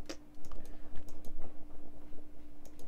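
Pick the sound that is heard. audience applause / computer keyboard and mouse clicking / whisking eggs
computer keyboard and mouse clicking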